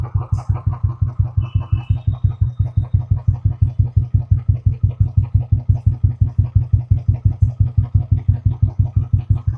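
A custom Jawa bobber motorcycle engine idles steadily nearby after a self-start, a loud, even thumping beat with a regular rhythm and no revving.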